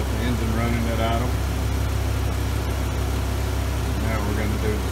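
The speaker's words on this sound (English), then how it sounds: "We got the engine running at idle." A BMW S85 engine idles steadily after rod bearing and Vanos line replacement, a constant low rumble running throughout, with voices talking faintly over it.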